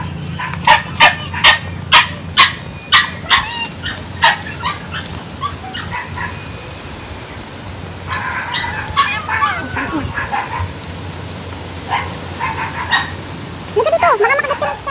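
A dog named Sky on a farm barks in a quick series of close, loud yips that taper off, then gives a few scattered barks and whimpers, with people talking nearby.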